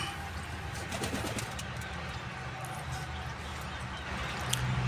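Pigeons coo softly and repeatedly in low, rounded calls over a faint background hiss, with no talking.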